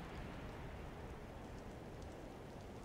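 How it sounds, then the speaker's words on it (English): Rain in the submarine video game UBoat comes through as a faint, steady hiss of falling drops, an even wash of noise with no voices over it. "It's raining, yeah."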